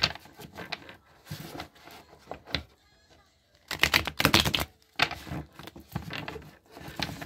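Cards riffle and flutter in quick bursts, with rapid papery clicks and pauses between shuffles, close by and fairly loud.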